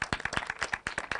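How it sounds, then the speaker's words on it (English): A small audience claps for conference panelists, heard as a brief burst of close, fairly quiet handclaps in a quick, uneven rhythm. "maybe a big round of applause, please."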